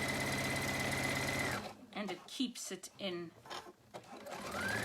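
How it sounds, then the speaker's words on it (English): A home sewing machine zigzag-stitching the seam of men's boxer shorts: a loud, fast, even mechanical whir that stops, leaving someone talking, then starts up again at the end. "sew your zigzag so that it pushes that seam down"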